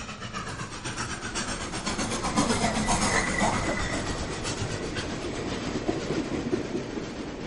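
A train rolls along continuously, a dense rumbling wash of rail noise with faint clickety-clack rhythm, steady and fairly close throughout with no voices.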